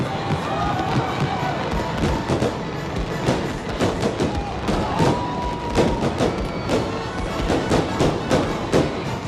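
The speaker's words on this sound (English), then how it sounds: "Just like the fireworks shooting high into the sky" A fireworks show with repeated sharp bursts and booms crackling in an irregular rhythm, over a constant murmur of a crowd.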